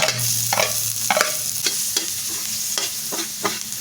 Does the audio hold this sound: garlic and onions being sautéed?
yes